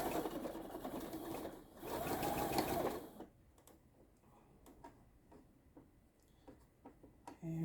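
A sewing machine stitches a straight seam on a Mariner's Compass quilt block, first as a steady, fairly loud whirring run, then slowing to quieter, scattered ticking stitches.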